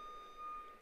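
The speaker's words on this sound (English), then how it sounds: "I might wait for the beeps to end." Faint steady electronic beeping tone, a thin high pitched sound held almost continuously in a quiet room, with no talking.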